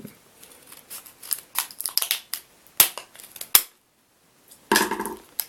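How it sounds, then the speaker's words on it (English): Plastic wrapping on a Pokemon card pack crinkles and rips in short, sharp bursts, with a few loud snaps and a final longer tearing rustle near the end, close and alone. "I could just rip it open, I guess."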